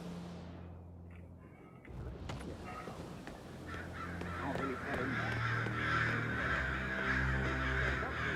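Crows caw repeatedly in the Hitman III video game level in Pakistan, steady harsh calls layered over a continuous ambient drone, with faint voices and background game sounds mixed in.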